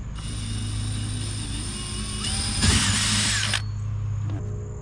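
Power drill driving screws into a panel while converting a Tracker Panfish 17 boat into a kayak, a loud close whir that rises in pitch as a screw seats, then stops.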